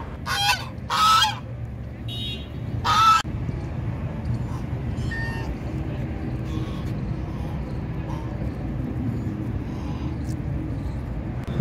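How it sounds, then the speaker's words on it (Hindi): Waterfowl honk and call loudly in a few sharp bursts at the start near a terminal area of an amusement park, then give way to a steady low rumble of background noise. "यहां पर आप काफ़ी तरह के डक्स को देख सकते हैं जो यहां पर टहल रहे हैं"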